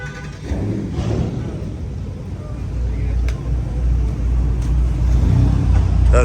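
Hellcat Redeye V8 car cruising on a highway, a steady low engine and road drone under continuous wind noise, with someone talking over it throughout.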